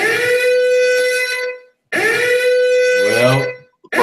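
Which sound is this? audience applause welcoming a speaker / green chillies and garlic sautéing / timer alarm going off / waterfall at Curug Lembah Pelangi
timer alarm going off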